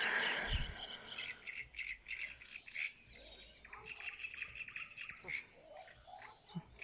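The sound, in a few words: birds singing outdoors in nature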